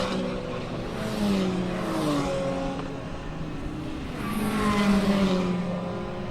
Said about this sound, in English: Sights and sounds of racing at Donington